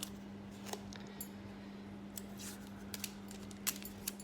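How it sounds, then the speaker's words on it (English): Scissors snip through sellotape at close range during a recycled-robot craft, with a few small sharp cuts and taps scattered over a few seconds above a steady low electrical hum, no talking. "Now you may need to use scissors to cut your sellotape"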